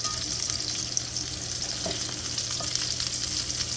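Salisbury steak patties fry in a pan, giving a loud, even, continuous sizzle with a faint crackle, close by and with no talking.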